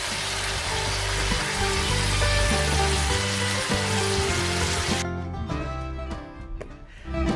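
Chinese barbecue steaks fry in a pan at a campsite, giving a steady, close sizzle with crackling throughout that thins out near the end, with no talk over it.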